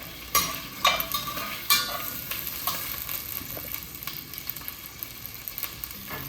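Sizzling frying in a pan while ginger is stirred into soy sauce chicken with shallots, steady crackling with a few sharp scraping clinks of the utensil early on, no talking.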